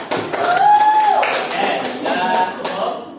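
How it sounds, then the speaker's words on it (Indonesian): Students in a classroom clap for a classmate, a few seconds of uneven, close applause mixed with children's voices calling out over it. "tepuk tangan buat Upi."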